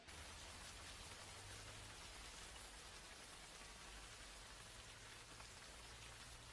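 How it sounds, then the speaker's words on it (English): Heavy rain pours steadily over an excavation site in ancient Africa, a dense, even hiss of raindrops on the ground that holds at the same loudness throughout with no voices. "Heavy rainfall brings a halt to the digging."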